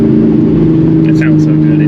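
Engine of a 1999-2004 Ford Mustang holding a steady low drone, heard from inside the car with strong low harmonics throughout; a person talks briefly over it.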